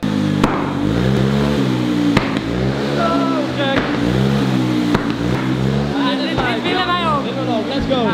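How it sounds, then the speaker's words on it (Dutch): A small ZIP scooter engine, freshly serviced and louder than before, revs loudly and repeatedly nearby, rising and falling in pitch, while people talk over the noise. "We staan weer bij de scooter en hij heeft een grote beurt gehad en het klinkt nu nog harder."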